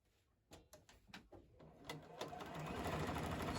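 Home sewing machine stitching solid quilt fabric squares together, starting with a few quiet separate needle thumps and building into a faint, continuous rapid chatter.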